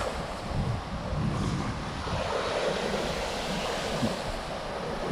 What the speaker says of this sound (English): You hear that? It changes as the wave rolls in. It's water now, and now it's ice.